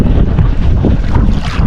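Strong wind buffets the microphone at sea, a loud, rumbling roar with gusting surges and the wash of water beneath.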